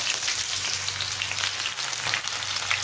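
Onion frying in hot oil with bay leaf, a steady loud sizzle and crackle close up, continuous for the whole stretch with no talking.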